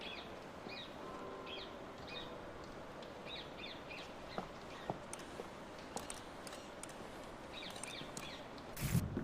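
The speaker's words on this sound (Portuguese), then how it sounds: "Passarinho." Birds chirp in the video game République, giving short, faint calls repeated at a steady pace over a constant ambient hum, followed later by scattered small clicks and a brief louder burst at the end.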